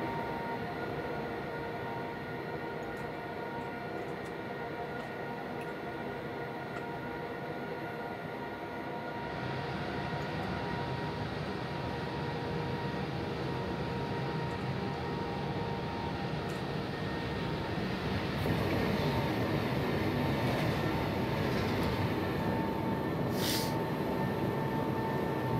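A train in the Train Simulator game, an Intercity 119, runs with a steady rumble and whine that swells louder and fuller partway through, with a brief high tone near the end.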